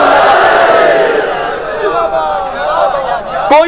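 Religious gathering audience chanting a slogan together in a large hall, a loud sustained crowd roar of many voices rising and falling, ending in a sharp swell.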